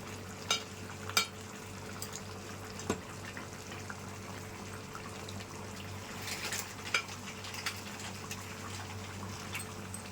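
Fish curry from pond fish simmers in a frying pan with a low, steady bubbling sizzle, broken by scattered sharp clinks and scrapes of a utensil gently stirring the pan.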